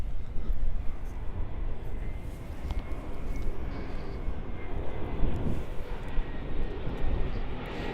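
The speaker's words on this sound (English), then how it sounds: "here's that Delta Connection flight now arriving on 24 right" A Delta Connection airliner arrives on runway 24 right at Los Angeles airport, its engines roaring in a broad, sustained wash that swells slightly midway, with voices talking faintly underneath.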